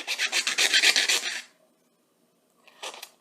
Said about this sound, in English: so once you have a hole big enough, you want to use a file